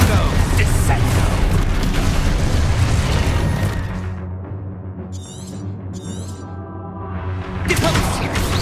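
Spell explosions from Confringo and Descendo in the video game Hogwarts Legacy: loud, dense booming blasts for about four seconds, then a quieter rumbling stretch with brief high crackles before another burst swells at the end.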